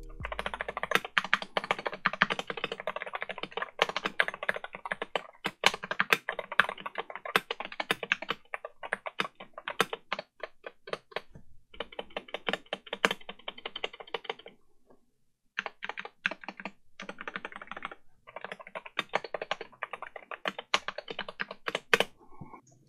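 Typing on a stock Wooting 60HE keyboard gives a steady stream of close, crisp keystrokes in fast bursts, with brief pauses between runs.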